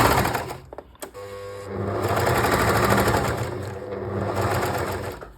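A sewing machine stitches a KAME sweater in bursts, a steady mechanical whirring run after a brief pause and click, close and fairly loud with no speech.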